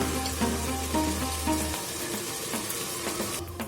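Tomato masala with ginger-garlic paste frying in oil for tomato bath, a steady close sizzle with light stirring and no talk.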